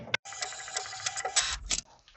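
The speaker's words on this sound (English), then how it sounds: "now the printer will give you alignment page" An HP Envy 6120e printer runs off an alignment page with a steady, busy mechanical whir. Rapid clicks and clacks of the moving print carriage sound up close and alone, ending in a couple of sharper knocks.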